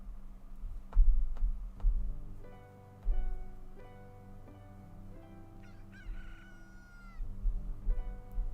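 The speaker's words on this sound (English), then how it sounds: "Oh, is that my cat?" A house cat meows several times at close range, its drawn-out, rising calls standing out over a quiet musical backing.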